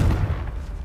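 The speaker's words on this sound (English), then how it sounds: "Confringo!" A Confringo fire spell explodes in Hogwarts Legacy, giving one short, heavy, booming blast with a rumbling low end that fills the whole sub-second moment.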